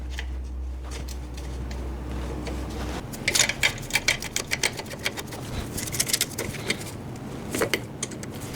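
Riveting tool retightening a rivet nut installed in a beam of a wrecked BMW 540i, heard as a run of quick, close mechanical clicks and ratcheting clacks over a low background hum.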